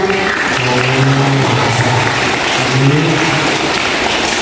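An audience at a school scholarship and gift ceremony for students applauds a bank loan officer, a steady, even wash of clapping that holds throughout with a faint voice beneath.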